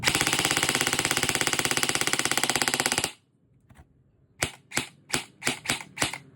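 An E&C 645-1 DDM4 PDW airsoft gun is fired straight out of the box during a chronograph test at about 380 FPS. A loud, rapid full-auto burst lasts about three seconds, then six separate single shots follow, with no talking.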